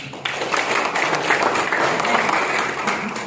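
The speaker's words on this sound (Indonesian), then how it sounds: "Tepuk tangan Anda semua" A crowd breaks into steady, dense applause that starts abruptly and holds at full strength without letting up.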